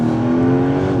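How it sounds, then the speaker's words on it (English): A 2026 Porsche 911 Carrera GTS engine revs loud and close, a steady dense snarl held through the whole second without talk. "we're here just to enjoy the sounds of this car"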